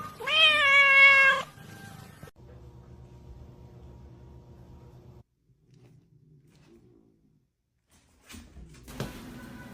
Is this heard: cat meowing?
yes